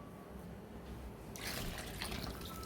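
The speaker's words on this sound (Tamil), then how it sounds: "நமக்கு குழம்புக்கு இப்போ தேவையான அளவுக்கு தண்ணி ஊற்றிக்கலாம்." Water pours into a pot of Tamil-style fish kuzhambu as it cooks; a soft background hiss gives way to a fuller, splashing gush of liquid partway through, steady and close.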